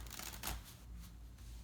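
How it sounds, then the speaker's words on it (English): Playing cards are shuffled together in a soft, close riffle with one brief louder flutter, then continued light shuffling hiss. "You can shuffle them again"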